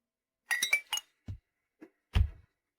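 Glasses clink together in a toast at a meal, a few bright chinks close by followed by softer knocks, with no voices.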